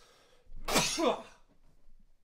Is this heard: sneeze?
yes